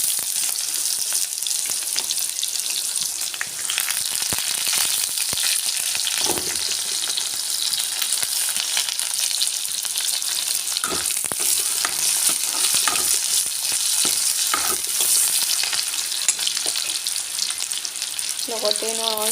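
Chopped onions fry in hot oil in a pan, giving a steady, close sizzle throughout, with scattered scrapes and clicks of stirring.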